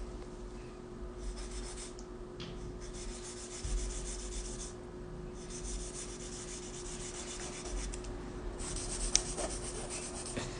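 Gel nail tip being shaped by hand with a nail file, producing soft, repeated scratchy rubbing strokes in short bursts separated by brief pauses, close but faint, with no talking.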